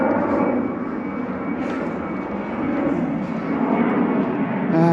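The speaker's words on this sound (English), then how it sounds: "There's the aircraft taking off." A fixed-wing aircraft takes off near Edinburgh, its engine roar a steady, fairly loud broadband rumble that swells slightly toward the end, heard outdoors along a walking route.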